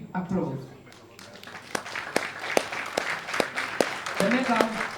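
At a European equipped powerlifting championship medal ceremony for the women's 84 and 84+ kg classes, scattered audience clapping builds into a string of distinct claps after an announcer's voice fades, with a voice returning near the end.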